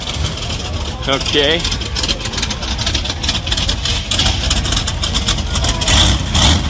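A 1962 Buick Skylark gasser engine idles close by at a car show, a steady low rumble running throughout under crowd noise and brief talk.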